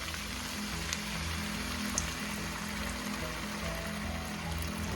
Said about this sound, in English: Once that's done, you can now add our water.